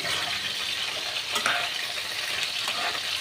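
Pui mitchuri, a Malabar spinach dish, is stirred as it fries in a pan, its close, steady sizzle broken by a few scraping spatula strokes; no one speaks.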